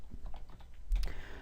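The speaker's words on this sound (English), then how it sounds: "as soon as you start typing in" Keys clack on a computer keyboard while values are entered into an Excel spreadsheet, a quick burst of light taps close by with a slightly louder cluster near the end and no talking.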